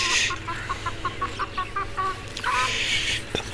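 Chickens cluck in a steady run of short, close calls outdoors on a sunny farm plot near buffaloes. A louder squawk follows over constant background noise.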